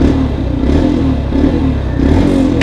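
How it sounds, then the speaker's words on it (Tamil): Exhaust of a Yamaha FZ X BS6 motorcycle revving up close and loud, a throbbing low engine note rising and falling with the throttle. "இப்போ இந்த வண்டியோட எக்ஸாஸ்ட் சவுண்டுன்னு கேட்டிங்கன்னா"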